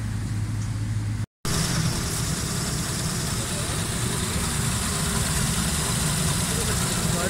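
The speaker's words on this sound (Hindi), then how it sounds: "गाड़ी स्टार्ट है, बिल्कुल स्मूथ है," A Suzuki Mehran car engine idles steadily after tuning and a throttle body service, a smooth continuous hum close by with a brief dropout near the start and someone talking over it.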